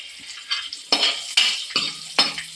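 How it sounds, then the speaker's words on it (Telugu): Raisins and vermicelli frying in ghee, heard as a quick series of close, sharp scrapes and clinks of a spoon against the pan over a faint sizzle, in separate bursts with short pauses and no talk. "ఇప్పుడు సేమియా కిస్మిస్ వేస్తున్నాను"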